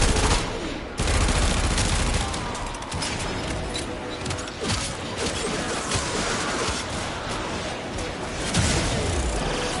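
Sustained full-auto gunfire in the video game Warframe, dense rapid bursts of shots filling nearly ten seconds, loud and continuous with brief gaps and impact crashes.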